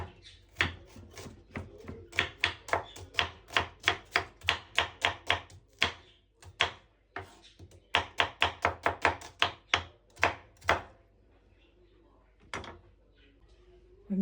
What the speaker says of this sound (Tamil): இப்போ அதுக்கு தேவையான பொருட்களுக்கு வெங்காயத்தை வெட்டுவோம்.